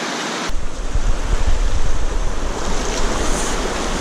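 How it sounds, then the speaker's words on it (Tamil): A river in Paro, Bhutan rushes steadily and loudly close by, a dense wash of flowing water that begins abruptly after a brief quiet moment and continues unbroken with a windy, roaring texture. "இவங்க நாட்டில் ஒரு நதி ஓடுது"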